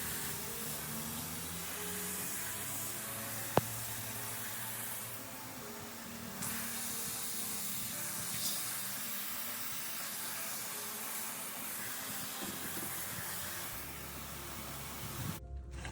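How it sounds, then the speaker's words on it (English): Water runs in a steady, gentle hissing stream while rinsing a K&N air filter, continuous and fairly faint, with a brief sharp knock near the start. "then just gently rinse the whole thing off"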